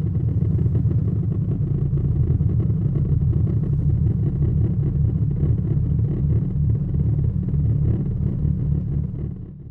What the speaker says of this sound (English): And so the sun sounds like this.